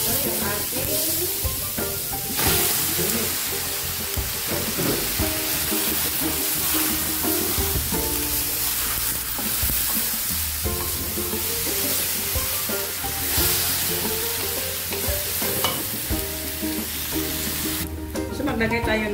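Garlic sizzling and frying in a pan for Bisaya balbacua with turmeric, a steady loud crackle running throughout with occasional stirring and faint voice underneath.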